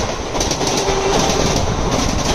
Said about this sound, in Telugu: అది ఏసీ లోకల్ ట్రైన్